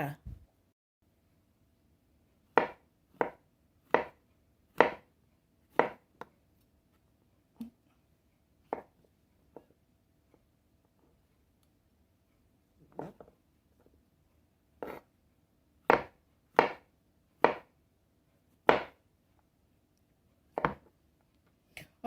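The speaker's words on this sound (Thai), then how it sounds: "เดี๋ยวขอหั่นไปสักพักก่อนนะคะ" Sharp knife strokes slice mushrooms on a cutting board in irregular bursts, with quiet pauses between runs of cuts.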